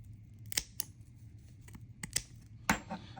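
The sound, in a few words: small scissors trimming a 3D printed lure tail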